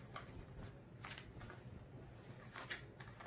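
A deck of playing cards being shuffled by hand during a card trick, with repeated soft riffling bursts at close range over a quiet room background.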